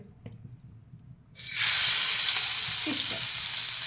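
Sudden loud sizzle as food drops into hot coconut oil, the quiet background bursting into a steady, bright crackling fry that holds for several seconds.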